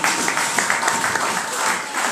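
Church congregation applauding together, a steady dense wash of clapping at moderate level with some voices mixed in underneath.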